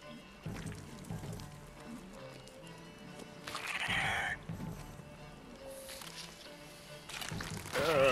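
A horse in The Witcher 3 game whinnies and snorts between hoof clops and other game sounds, the loudest neigh rising near the middle and another at the end.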